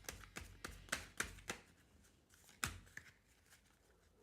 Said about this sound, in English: Shuffle for a card from there